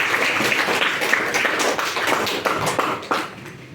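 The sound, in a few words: class applauding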